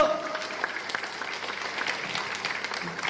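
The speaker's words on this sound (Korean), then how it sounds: "큰 박수 부탁드리겠습니다." A lecture audience claps in a steady, moderately loud patter to welcome a newly appointed branch head, with a voice briefly heard alongside.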